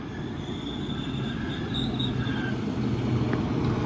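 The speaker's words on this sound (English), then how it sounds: "Incoming is the 1310 West Midlands Railway service to Birmingham New Street from Shrewsbury." A West Midlands Railway passenger service bound for Birmingham New Street from Shrewsbury rolls past on the Walsall line, a steady, close rumble of wheels with faint high squeals of wheels on rail.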